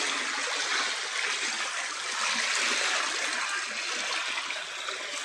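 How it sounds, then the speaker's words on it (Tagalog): Heavy rain has filled a mountain creek; water rushes steadily along it, a constant broad hiss of flow with small gurgles, close by and uninterrupted by voices. "So, may tubig na yung sapa."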